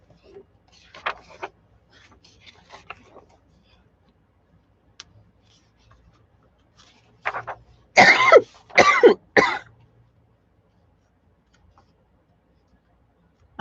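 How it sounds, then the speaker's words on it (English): Several throat-clearing coughs come in a loud cluster of three or four sharp bursts near the end, after a stretch of faint ticking and quiet clicks in a near-silent room. "I'm so sorry I'm coughing at y'all."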